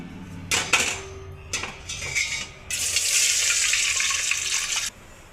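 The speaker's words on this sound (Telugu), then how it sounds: "ఇప్పుడు వాటర్ పోసుకోవాలి." Water for chicken biryani splashes and pours into a pot in a few short gushes, then a steady louder stream of several seconds, close up and without speech.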